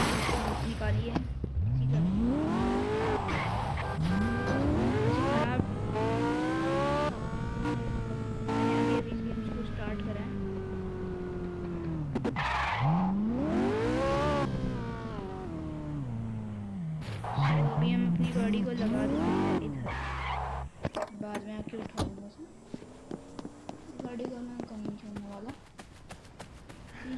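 In the Gangster Vegas video game a car engine revs up and down through rising and falling gear pitches, with squealing tires and skidding bursts, loud and close, while people talk over the gameplay.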